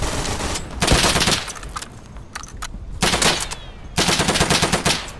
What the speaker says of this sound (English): Okay, friendly shooting there